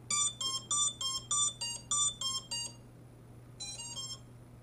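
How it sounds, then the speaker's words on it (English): A racing drone's motor controllers give a series of rapid electronic beeps in quick succession, a brief pause, then a short rising chirp, all over a steady low electrical hum. "beep and a chirp, and that is all done."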